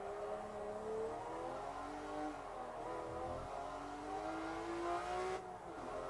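A virtual racing car on cold tyres approaching a hairpin on a track, played on an Xbox One X: a steady engine drone whose pitch repeatedly climbs through the gears and dips under braking, moderately loud and with no voices.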